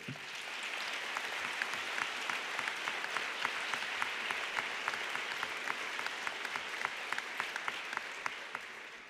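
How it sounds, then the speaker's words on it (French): Sustained audience applause for children at a closing ceremony, steady, fairly close clapping with distinct sharp claps standing out from the crowd. "on peut encore une fois les applaudir"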